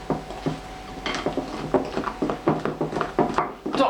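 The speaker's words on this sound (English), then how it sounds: "Just stir that in." Spoon stirring vanilla extract into sponge cake mixture in a bowl, a steady run of quick, light clinks and scrapes, close and fairly quiet.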